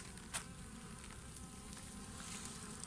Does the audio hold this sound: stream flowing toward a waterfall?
no